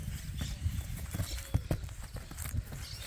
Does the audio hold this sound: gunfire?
no